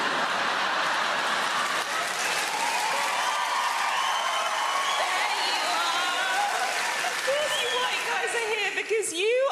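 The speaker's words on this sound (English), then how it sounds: "Come on, guys, cheer louder." Comedy show audience at the Apollo cheering and clapping, a dense continuous wash of crowd noise with whoops and scattered laughter. A voice rises over it near the end.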